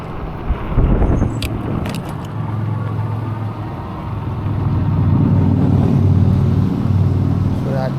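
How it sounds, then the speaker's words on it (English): Motor vehicle rumble building as a motorcycle approaches and passes on a suburban road at dawn, heard from a slow-moving e-bike with jangling rattles in the foreground, loudening toward the end. "I see a motorcycle."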